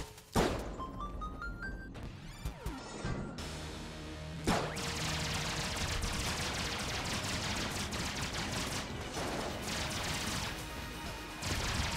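Enemy gunfire in Enter the Gungeon, a dense, continuous barrage of rapid shots and crashing impacts with rising blips at the start, loud and sustained over the game's busy mix.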